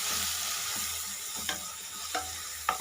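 Lemon rice ingredients with turmeric fry in a pan, a quiet steady sizzle with a few soft scraping stirs and light clinks of the spoon.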